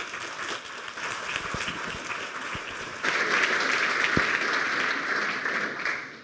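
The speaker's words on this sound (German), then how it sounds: "Bitte einen kleinen Applaus für Florian." Audience applause for a speaker at a hacker conference talk, moderate clapping that swells louder halfway through, then fades out at the end.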